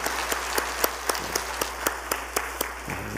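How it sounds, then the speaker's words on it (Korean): A church congregation at a Lenten early-morning prayer service claps in a steady, evenly spaced rhythm, each clap sharp and distinct, moderately soft and continuing for a few seconds. "우리 뜨거운 박수로 격려하십시다"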